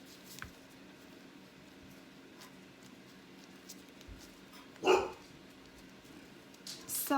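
Dogs bark indoors somewhere in the house, a brief distant burst near the middle and another at the end, faint against steady room noise.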